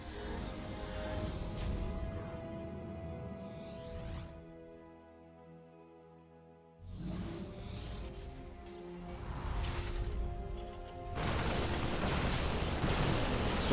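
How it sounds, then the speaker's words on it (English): Marauder units firing shots in a StarCraft 2 Protoss versus Terran match, with scattered booming impacts and whooshes amid battle noise that pauses, then builds back into a loud, dense clash toward the end. "we do see a couple of Marauders continue to get some shots off"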